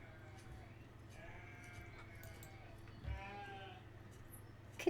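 Sheep in the farming game Banished bleat in several wavering calls against a low steady hum, each bleat fairly faint and spread across the few seconds.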